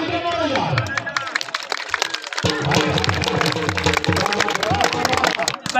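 A crowd claps at a challenge kabaddi match in Bahawalnagar, with dense, sharp claps running throughout, mixed with shouting and excited voices nearby.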